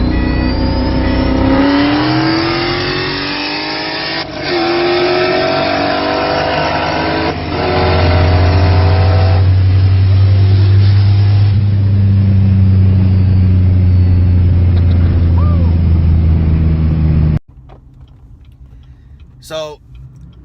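A 900+ whp manual Dodge Challenger Hellcat accelerates hard in a roll race, its engine climbing through the gears with loud rising howls and brief dips at each shift before it cuts off abruptly.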